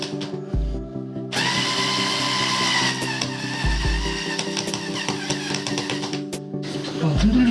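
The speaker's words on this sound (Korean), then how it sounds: "나사를 약간 사선으로 박아야 될 것 같아요" A power drill whirs in bursts as it drives a screw at an angle into a wooden shelf, the motor rising and stopping near and loud, with quieter clicks and gaps between runs.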